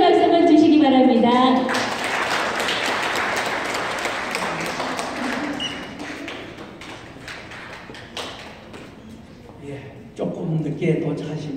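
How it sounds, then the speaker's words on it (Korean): Audience applause of encouragement at the opening of an Andong calligraphers' association exhibition in an arts hall, a dense wash of clapping building after a spoken voice and fading into scattered claps, with talk resuming near the end. "응원의 박수만 주시기 바랍니다."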